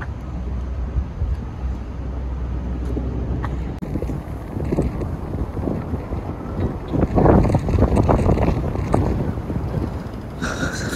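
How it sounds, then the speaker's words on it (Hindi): Wind blows outdoors in Abu Dhabi ahead of rain, buffeting the microphone in loud, uneven gusts that swell toward the middle and stay rough throughout. "हवा भी थोड़ी बहुत चल रही है"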